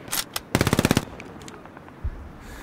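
A PPSh submachine gun in the video game Hell Let Loose fires a fast burst of about ten rapid shots, loud and close, after a couple of earlier cracks, with a distant thump following and battle ambience beneath.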